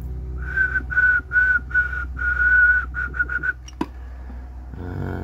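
Whistled tones sent through the microphone of a HAM International Jumbo MK1 radio transceiver on upper sideband, a run of about ten steady, fairly loud sustained notes with short gaps, the final ones quicker and shorter, over a low hum.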